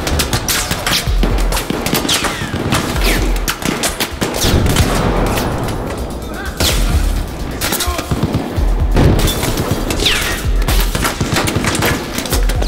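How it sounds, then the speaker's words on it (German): Dense, loud gunfire in Battlefield 4, with rapid machine-gun bursts and overlapping shots rattling nonstop alongside occasional heavier booms and thuds, filling the whole stretch. "wo wird hier geschossen?"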